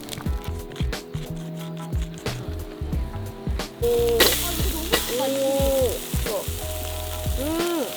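Steady sizzling and crackling of meat cooking on a hot grill at a campsite, with scraping and tongs clicking, while voices murmur faintly in the background.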